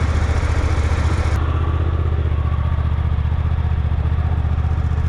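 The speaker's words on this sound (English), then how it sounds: "let's start it up and see how the exhaust sounds" Suzuki GSX-8R parallel-twin motorcycle running just after start-up, its exhaust giving a steady, loud, rhythmic idle pulse close by with a faint whine, no voices over it.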